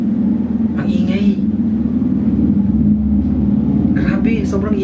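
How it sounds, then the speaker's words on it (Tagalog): A noisy motor tricycle rumbles past with a steady low engine drone, while a person speaks over it in short phrases. "Grabe, sobrang ingay ng tricycle na yun."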